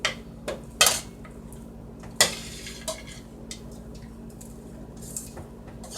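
Candy-coated popcorn stirred in a pot, with a few sharp scrapes and clinks of the utensil against the metal near the start and middle, then softer, quieter rustling and scraping that continues without talk.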